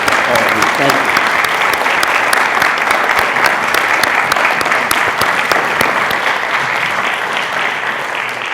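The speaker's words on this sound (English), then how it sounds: "let me give a round of applause for all of you" Loud, sustained applause from a seated audience at a voting rights panel event in Washington, thick continuous clapping close to the microphone that eases slightly toward the end.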